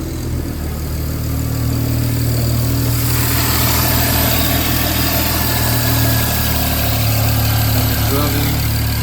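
A car engine idles steadily right after a single turbo install, with a continuous low rumble and hum running loud and close throughout, rising slightly in intensity after the first few seconds.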